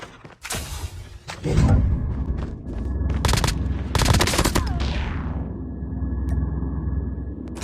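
Gunfire in a video game: loud bursts of automatic shots and single cracks, some rapid rattling volleys, over a rumbling game background, fairly close and dense across the stretch.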